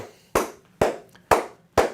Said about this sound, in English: We'll clap it up again to Big Blue.